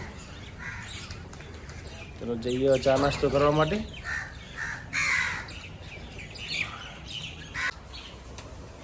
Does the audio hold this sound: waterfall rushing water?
no